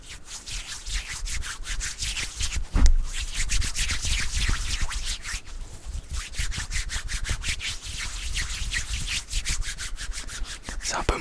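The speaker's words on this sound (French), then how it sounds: "En plus, ça peut être relaxant avec des sons de main." Hands rub together close to the microphone for ASMR, a barber-roleplay relaxation sound: dense, continuous dry swishing and scratchy friction in quick repeated strokes, with no talking.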